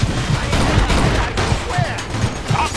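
Shootout in Mafia 2, a volley of gunshots popping at irregular intervals beneath tense shouting voices and background clatter, fairly close and loud.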